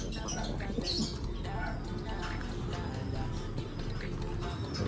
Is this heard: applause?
no